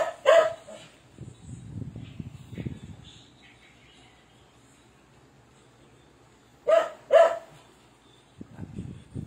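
A dog barks in a couple of sharp double bursts, loud and fairly close, separated by a stretch of quiet with murmuring voices in between.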